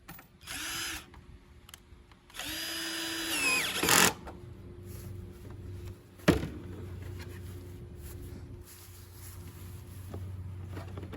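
A power drill boring holes into the front bumper of a BMW M3 during a carbon lip install, two bursts of whining drilling with sharp clatters in between, then a lower steady motor hum.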